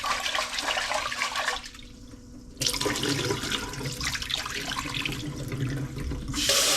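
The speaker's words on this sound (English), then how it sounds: "Wash the rice 3 to 5 times. Get all the starch off." Rice being washed under a running tap to rinse off starch, a steady rushing stream of water that briefly drops off, then splashes back at full strength.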